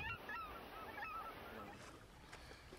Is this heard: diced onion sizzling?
no